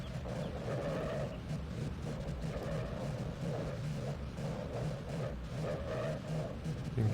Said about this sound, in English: Yeah, the engine does not like this.